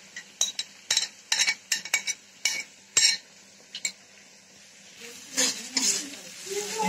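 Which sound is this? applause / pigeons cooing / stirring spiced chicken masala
stirring spiced chicken masala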